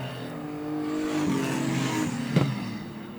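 Stock cars race at Greenstone Park Speedway, a continuous engine roar swelling as cars pass fairly close, with a sharp rise near the end as one goes by.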